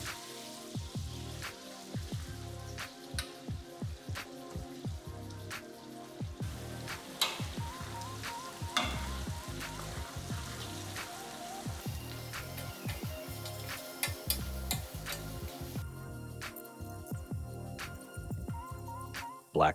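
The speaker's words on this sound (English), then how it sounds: "When the oil is hot, add the meats, the animals, and cook them slowly while mixing." Meat cooking slowly in half a kilo of hot sunflower oil for a Turkish kumru sandwich, a crackling, popping sizzle full of irregular spits and taps, with occasional clinks of stirring.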